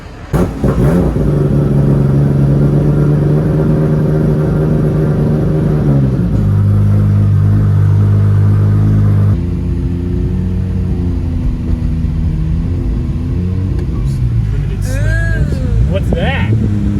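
Nissan R32 GTR fitted with HKS suspension driving on the road: the engine drones and accelerates with rising and falling pitch, loud from inside the car, with people talking over it toward the end.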